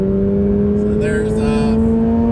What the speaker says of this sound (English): full acceleration through third gear